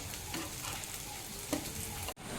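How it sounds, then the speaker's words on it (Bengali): Flattened rice and chhana pitha fry on a griddle, giving a soft, steady sizzle close by, with a faint scrape as the pieces are turned, ending in a brief dropout. "এভাবে উল্টে পাল্টে ভেজে নিচ্ছি"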